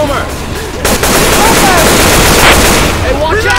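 Loud, dense gunfire in Left 4 Dead 2 rattles in rapid bursts against the infected horde, with voices calling out over the shooting.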